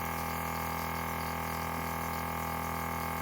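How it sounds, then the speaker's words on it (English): A Belloccio airbrush makeup kit gurgles with a continuous low bubbling hum from the compressor and airflow, steady and close with no talking. "So now I can hear it gurgling."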